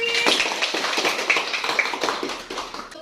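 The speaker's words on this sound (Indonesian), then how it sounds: "Tepuk tangan sekali lagi." Students applaud together in a classroom, a dense, steady wash of many hands clapping throughout, fairly close and loud.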